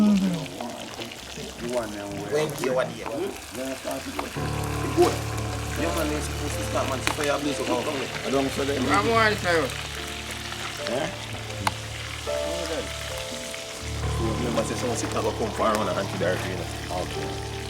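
Fish fries in a pan at an outdoor cookout in Brighton, Westmoreland, Jamaica, a steady sizzle with pouring and stirring sounds while people talk loudly over it.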